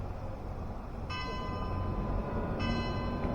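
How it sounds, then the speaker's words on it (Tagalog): Two distant tower bell strikes ring out about a second and a half apart in Czechia, each leaving a bright lingering tone over steady outdoor noise. "Ayan, tumutunog na naman. Kampana. May kampana dyan sa sa taas."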